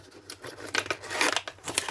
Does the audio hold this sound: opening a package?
yes